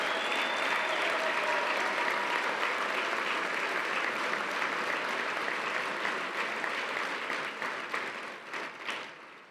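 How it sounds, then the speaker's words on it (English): Sustained applause for coaches at an awards banquet, a dense roomful of clapping that holds steady and then tapers off near the end. "Let's give them a round of applause"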